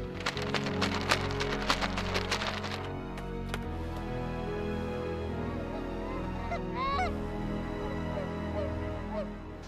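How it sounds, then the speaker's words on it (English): Geese honk repeatedly as they fly in over a Minnesota goose hunt, a flock calling in a busy overlapping chorus over steady wind noise, louder at first and then thinning. "So those birds are going to come in into that west wind"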